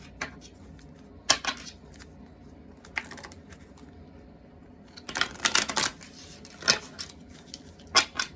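Short bursts of papery riffling and soft clicks, several separate shuffles spaced out over quiet room tone, close by.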